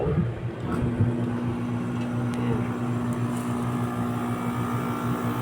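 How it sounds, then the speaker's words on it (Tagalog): An air conditioner compressor runs with a steady low mechanical hum and drone, continuous and fairly close, on a unit whose fan motor will not spin. "Umaandar na yung compressor."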